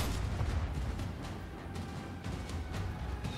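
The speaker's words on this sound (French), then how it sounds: "Frappe d'artillerie. Ils veulent qu'on la fasse ici." Artillery strike explosions in the video game Last Train Home, a dense barrage of distant booms and thuds rolling continuously with no clear gaps, moderately quiet.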